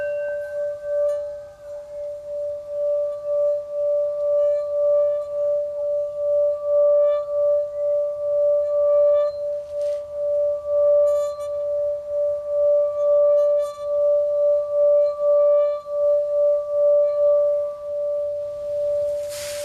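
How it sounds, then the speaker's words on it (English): A singing bowl struck once and left ringing, a pure steady metallic tone with a faint higher overtone that sustains evenly for nearly twenty seconds with a gentle pulsing shimmer, heard alone in a quiet room. "This is called the singing bowl."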